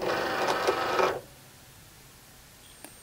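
A Cricut Explore cutting machine feeding in an infusible ink transfer sheet gives a short mechanical whir for about a second, then stops, leaving near silence with a faint click at the end.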